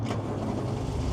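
Toyota Cressida MX32 engine cranking and catching at a wreckers yard, a steady low rumbling churn close by that runs alone the whole time without pause.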